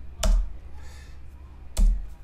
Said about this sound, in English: as I'm typing, I use the keyboard to do a new line